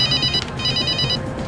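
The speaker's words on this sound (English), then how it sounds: "That's the phone." A telephone rings with a bright electronic warble in two bursts separated by a short gap, loud and near over a low background hum.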